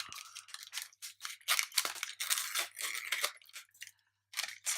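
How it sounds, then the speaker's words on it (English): A kit envelope of small leathercraft parts, including button studs, is opened up close, giving a run of crisp crinkling and rustling bursts with short pauses and no talk. "We're going to open our all the small things envelope."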